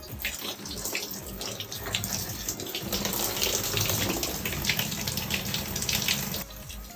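Water pours steadily from an RV shower being flushed during de-winterizing, a continuous close hiss and splash that stays even before cutting off near the end.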